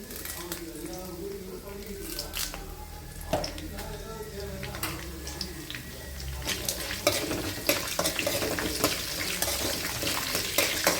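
Dried red chillies fry in hot oil in a pan for a Kerala thoran, with a busy sizzle and scraping stirs throughout, while a voice talks briefly beneath the frying.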